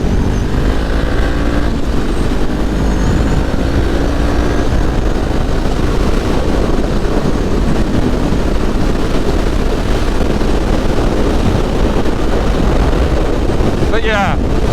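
Strong wind buffets the microphone outdoors, a loud continuous low roar and rumble that runs unbroken throughout, with a faint voice partly buried beneath it.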